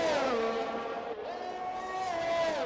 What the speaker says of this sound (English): Round the final corner in the McLaren